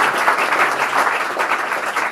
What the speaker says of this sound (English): A golf clap